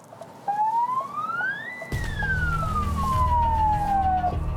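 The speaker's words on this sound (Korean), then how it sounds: "저는 사이렌 울리는 차 안에도 처음 타보는 것 같아요" A rising and falling emergency vehicle siren wails loudly from close by while riding inside the car on a highway, then a heavy engine rumble joins beneath the long sweeping tone.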